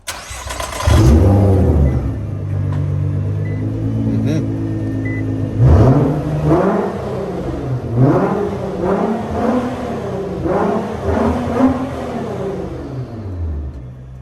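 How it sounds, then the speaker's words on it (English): A 2017 Nissan GT-R engine cranks and catches with a loud start, settles briefly, then revs up and down in several close, throaty bursts over a steady idle. "Alrighty, time to start the car."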